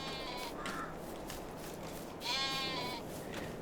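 Sheep bleating in the farming video game Farming Simulator 22, two distinct wavering bleats a moment apart over a steady outdoor background, no talk.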